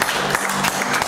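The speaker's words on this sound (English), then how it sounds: "Give him a great hand clap this morning." Church congregation clapping hands during a Sunday morning service, a dense steady burst of applause filling the room with no break.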